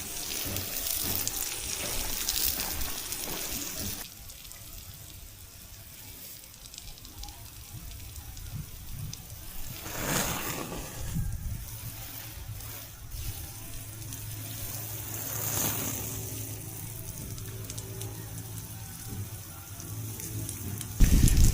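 Water rushes steadily into a tank for about twenty seconds, a continuous gushing wash that swells louder at moments, with faint clatter and background activity underneath.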